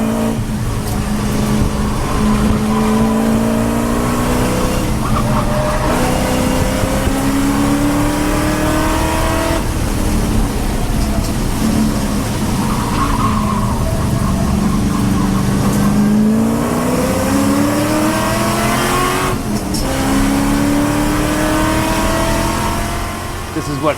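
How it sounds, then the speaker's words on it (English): An Ultima race car with a 700-horsepower LS engine screams along a track straightaway, giving loud repeated revving sweeps that climb in pitch through each gear change and drop away as it passes close by. "This is what 700 horsepower looks like passing you on the straightaway."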